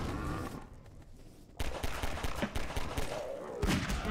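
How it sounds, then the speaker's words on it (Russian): Several loud, sharp revolver shots crack out in quick succession amid a busy, noisy Half-Life 2 cooperative game soundscape in Ravenholm, with short pauses between bursts. "Мощный револьвер, кстати, вообще огонь."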